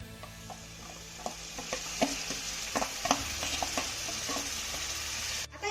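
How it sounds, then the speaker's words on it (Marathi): Spiced yogurt masala sautés in a pan over a high flame, a steady sizzle punctuated by repeated scraping stirs and soft clinks of the spoon against the pan. "मसाल्याचं दही आपल्याला हाय फ्लेमवरती दोन मिनिटं छान असं परतून घ्यायचं आहे"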